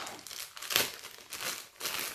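Plastic packaging around a black Adidas Freelift Elite Prime Knit gym t-shirt is torn open, giving close, crisp crinkling and rustling in uneven bursts with one sharper crackle near the start.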